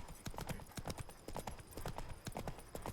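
A horse's hooves clip-clop at a brisk, even trot in the video game The Witcher 3, with steady close hoofbeats and no talk over them.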